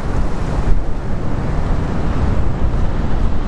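Strong wind on the Cornwall coast buffets the microphone in a continuous loud roar, with a hint of surf beneath and no voices.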